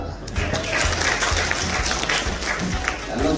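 Applause from guests at an official gathering, a dense stretch of hand clapping under a speaker's voice in a hall.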